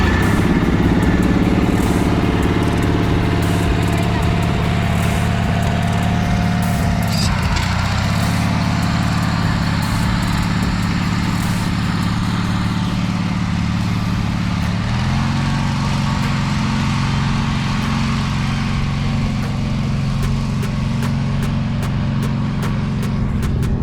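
A small tractor rolls a yard during spring cleanup, its engine droning steadily and loudly up close for the whole stretch, with slight shifts in pitch.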